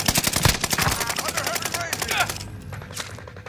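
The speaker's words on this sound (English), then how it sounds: "Someone else is shooting at me?" Rapid automatic gunfire from Sten and Bren guns in a shooter game rattles in close bursts, a dense string of sharp cracks that thins out toward the end.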